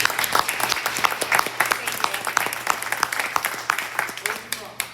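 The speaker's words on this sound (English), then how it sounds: "A round of applause for this one." Audience applause breaks out at a chicken-processing event in Tennessee, a steady run of sharp claps with a loud mix of hands rising and falling over five seconds, close by and under a faint hum.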